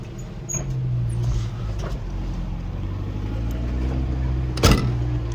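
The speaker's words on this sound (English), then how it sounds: "Wait for that Corvette to move through." A Chevrolet Corvette rolls past in light traffic, a steady low engine hum and tire noise close by, swelling briefly with a sharp rushing pass near the end.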